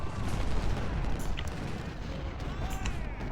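Sniper rifle gunfire in the Ultimate General: Civil War strategy game, scattered distant cracks and booming reports over a continuous rumbling battle din, with a few sharper shots standing out near the middle and end.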